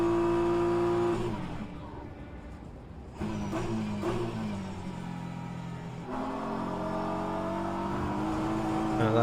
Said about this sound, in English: More hypercars coming our way.